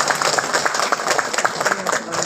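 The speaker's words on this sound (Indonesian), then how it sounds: "Tepuk tangan dulu untuk Anda semua." Seminar audience of kindergarten teachers in Cilegon clapping together at KidZania, a brief burst of lively applause with some voices mixed in, fairly close and moderately loud.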